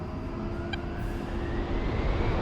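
Super Hornet jet engines spool up in a flight simulator game, a steady broadband roar with a faint rising whine that swells slightly louder toward the end, with no voices over it.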